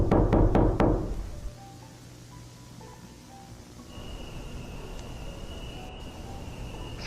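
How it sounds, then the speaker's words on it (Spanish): Several loud knocks on a door in quick succession at the start, part of an analog horror story where a wolf comes to a little pig's house at night, followed by quiet ambience and a faint steady tone. "quien aparece tocando su puerta"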